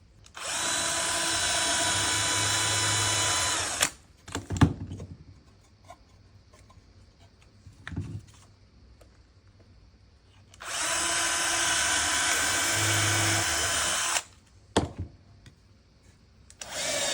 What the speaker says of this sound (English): I'm pre-drilling these holes with a 3 millimeters drill